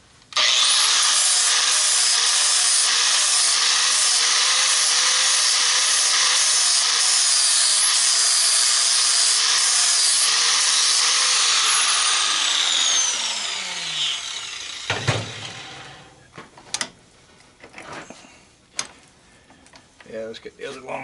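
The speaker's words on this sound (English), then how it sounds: "I'm going to start cleaning up with the flap disc" A flap disc grinds a sand-cast copper ingot with a loud, sustained abrasive whine for about thirteen seconds. The tool then spins down, followed by scattered clunks and handling noises up close.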